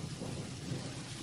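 Rain falls with rumbling thunder during a storm, a dense low roll under a constant wash of raindrops, brief and fairly faint.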